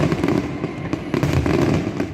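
Fireworks exploding at the International des Feux Loto-Québec show at La Ronde: a loud, dense, continuous barrage of booming bursts and sharp crackles with no pauses and no voices.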